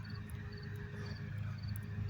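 Crickets chirping in rapid pulsing trills, faint and steady, over a low constant hum of a lawnmower in the background.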